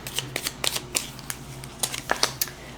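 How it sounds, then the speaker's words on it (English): A deck of tarot cards is shuffled by hand: a rapid series of crisp riffling clicks and snaps repeats in short bursts over a low steady hum, close up and with no voice. "Okay, one more shuffle."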